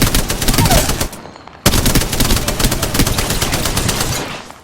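Rapid automatic gunfire in the game Apex Legends, loud and close, a continuous rattling stream with a short break before firing resumes and carries on to the end.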